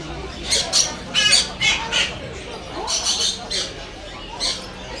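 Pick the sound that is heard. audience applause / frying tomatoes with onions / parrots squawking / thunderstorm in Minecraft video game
parrots squawking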